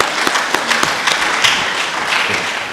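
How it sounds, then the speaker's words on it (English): Audience clapping at an event on the Safe Schools initiative, a dense burst of hand claps from a crowd with a few sharper individual claps standing out, loud and sustained with no talking. "Let me clap for my country,"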